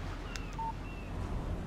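A phone text message alert in the Alan Wake video game gives one short electronic beep over a steady windy background, with faint chirps around it.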